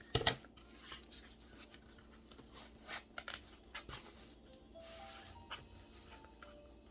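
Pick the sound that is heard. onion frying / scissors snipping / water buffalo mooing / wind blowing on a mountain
scissors snipping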